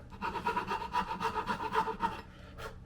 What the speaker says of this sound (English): That's a pretty coarse file, so it works pretty quickly.